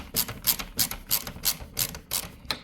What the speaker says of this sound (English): you take these smaller wood screws and you're putting it in a corner, and a couple twists and it'll bite right away